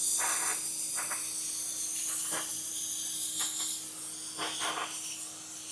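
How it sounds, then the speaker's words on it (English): Spray nozzle rinsing a brake backing plate on the front of a 200 Series Land Cruiser during a brake job, a steady close hiss with several brief louder bursts, no talking. "Go ahead and rinse the backing plate out as well."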